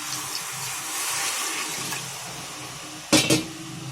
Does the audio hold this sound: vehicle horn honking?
no